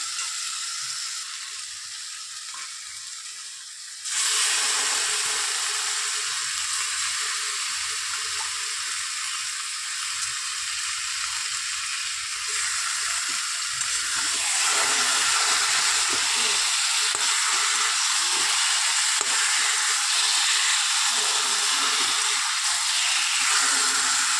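Lote (Bombay duck) fish hits hot frying masala and breaks into a loud, steady sizzle that grows stronger and keeps going without a pause.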